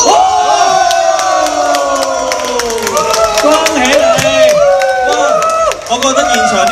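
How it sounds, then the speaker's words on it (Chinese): A live stage event audience at a shopping mall breaks into loud, sustained cheering and clapping, a dense crowd roar with whoops and overlapping voices running throughout. "覺得現場啲觀眾咧好有風度，拍手掌啊"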